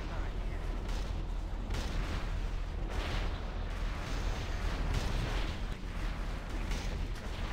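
Heavy cannon fire booms through a World of Warcraft raid, a dense continuous barrage of overlapping blasts that stays loud for the whole stretch, with a voice talking over it.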